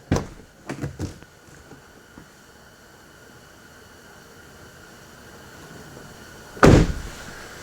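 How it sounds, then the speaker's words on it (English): A car door being opened during automotive oscilloscope testing gives a few sharp clunks and latch clicks at the start, followed by a long stretch of steady hum and then one loud thump near the end. "Then we'll open up the door again."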